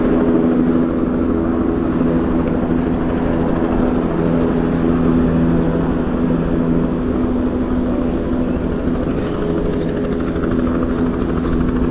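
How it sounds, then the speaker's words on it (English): A nearby helicopter at the Cairns esplanade spools up for takeoff, its steady loud rotor and engine drone with low rhythmic thumping running continuously, with no one speaking. "Chopper's about to take off."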